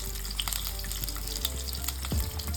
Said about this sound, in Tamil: இதெல்லாம் நல்லா ஃப்ரை ஆகணும்.